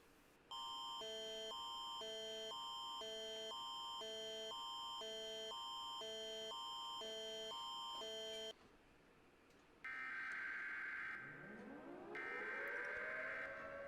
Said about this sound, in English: freaking weather sirens.